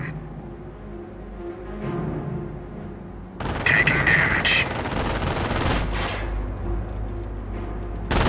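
Battle sounds from Company of Heroes, a Normandy invasion strategy game: an armored cavalry tank's main gun fires amid bursts of gunfire, loud and dense after a quieter opening of distant rumble.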